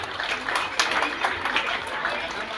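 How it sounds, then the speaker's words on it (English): Applause from an audience at a school prize ceremony as a junior-section first prize is announced, a steady patter of clapping that fills the whole moment at moderate loudness with crowd murmur mixed in. "round of applause."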